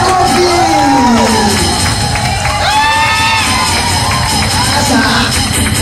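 A crowd at a church gathering cheers, whoops and shouts loudly and continuously, with children's voices mixed into the roar and talk rising through it.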